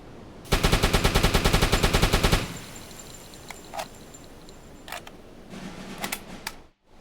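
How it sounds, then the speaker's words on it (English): A Type IID U-boat's deck gun in UBOAT fires a rapid string of about fifteen evenly spaced loud shots, followed by a few scattered clanks and thuds. "so I will try to fire gun again"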